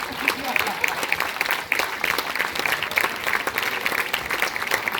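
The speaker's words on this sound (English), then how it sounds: "All put your hands together and join me in giving a huge round of applause" Audience applause fills the room at a film premiere, a dense, even wash of clapping from many hands with faint voices mixed in underneath, holding steady throughout.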